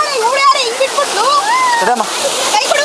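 Water in a forest stream hisses and splashes steadily, while young women chatter and call out over it throughout.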